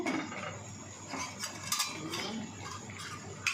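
Food being stirred in a cooking pan with a utensil, heard as soft scraping and a few light metallic clinks, close and quiet.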